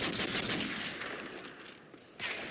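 Gunfire from a sniper rifle trick shot in a Modern Warfare 3 quickscope match: loud, dense bursts of shooting that ease off briefly, then a sharp new burst near the end.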